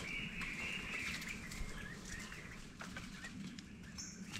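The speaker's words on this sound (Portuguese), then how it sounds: "Vários pássaros, eles estão meio que agitados." A flock of agitated birds feeding on ants on a forested trail on Ilha Grande, giving steady, fairly faint chirps, calls and wing flutters over a continuous outdoor hiss.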